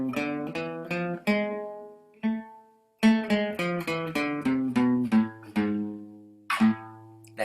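An A harmonic minor scale rings out as a run of single plucked notes, each a clear tone that decays, stepping along with brief pauses and one longer gap partway, with no speech over it.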